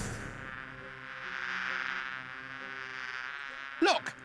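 Bees hum around a beehive in the Discworld 2 video game, a steady, droning buzz that swells and fades slightly, and a short voice sound cuts in at the very end.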